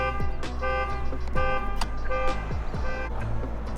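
Car horn or alarm tones sound near a parked car, with repeated short honks and bursts over a steady engine drone and street noise.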